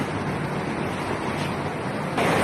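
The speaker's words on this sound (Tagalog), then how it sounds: "i-drain na natin yung kanyang oil." Engine oil drains from the crankcase of a 2022 Toyota Avanza through an improvised hose, a steady close rushing, trickling flow that stays even throughout and swells slightly louder at the very end.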